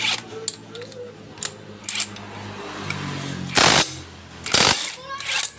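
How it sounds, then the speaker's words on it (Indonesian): A nut being welded onto a manual clutch part for a Honda Astrea Grand or Supra motorcycle, heard as sharp clicks and then two loud, harsh crackling bursts of about half a second each, close by and with no talking. "Jadi untuk pengelasannya harus dilakukan di sini guys"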